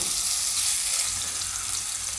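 Garlic sizzles loudly in hot oil, a dense, even hiss of frying that holds steady close by without pause.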